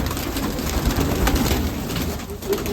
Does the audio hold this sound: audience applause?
no